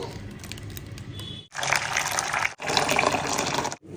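Water poured into a mixer jar over turmeric and ginger, a close steady gushing splash in three bursts separated by short pauses, with no talking.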